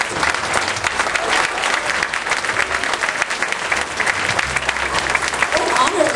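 Loud, sustained applause from an audience after a traditional Vietnamese Ao Dai fashion show at a gala, dense crowd clapping with some voices and cheers mixed in throughout.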